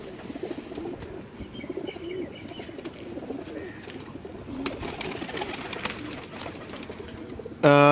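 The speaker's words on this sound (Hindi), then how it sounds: "अभी आपको सुर्ख आँखों वाले कबूतर भी दिखाता हूँ" Pigeons on a rooftop coo softly amid light chirps and rustling, with a steady low background hum and occasional faint wing movement, ending in a sudden loud burst.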